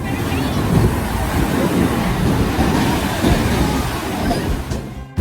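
Sea waves breaking on the beach at Cox's Bazar, Bangladesh, form a loud, continuous surf roar mixed with gusty wind buffeting the microphone, steady throughout with a brief dip near the end.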